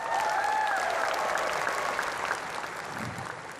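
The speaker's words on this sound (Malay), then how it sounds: "Kita berikan tepukan kepada Temu Anwar." Audience applause for Temu Anwar at a live event in Kelantan, a steady burst of clapping from a crowd that holds throughout and eases slightly toward the end, with a few voices faintly mixed in.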